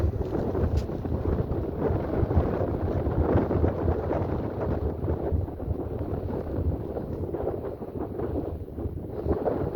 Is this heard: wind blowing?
yes